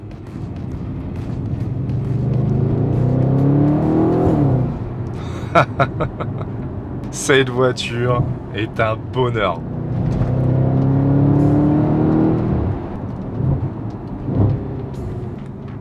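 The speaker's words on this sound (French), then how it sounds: "On entend le son rauque, le vrombissement du moteur" A deep, raspy Audi RS4 B8 V8 engine revs in bursts of sharp throttle blips, with someone talking over the rumble before and after.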